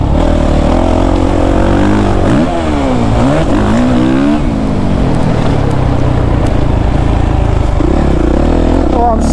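A Suzuki RMZ 450 dirt bike engine roars loud and close, rising in a revving sweep before settling back into a hard steady drone, with no speech over it.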